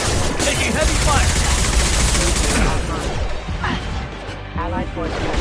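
Heavy gunfire and crashing impacts in the video game Mass Effect 2, a dense, loud barrage of shots and smashes filling the scene with little let-up, with voices mixed into the game sound.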